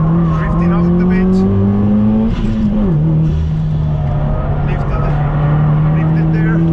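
Subaru WRX STI drifting wide on a track, loud sustained engine drone with a wavering tone and tire squeal, close and continuous under occasional voice.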